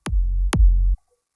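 Big room kick drum layered with a plain sine wave sub, low end left in: two loud hits, each a sharp click followed by a long, heavy droning bass tail that holds for about half a second, with nothing else playing.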